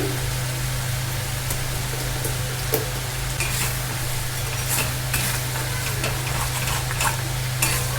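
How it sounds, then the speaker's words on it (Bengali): A spice paste for vegetarian dhoka dalna, a lentil-cake curry, sizzles in oil while it is stirred and scraped around the pan. The sizzle stays dense and steady, with a low hum underneath and occasional sharper scrapes. "তবু আরেকটু আমি সুন্দর করে কষে নিচ্ছি।"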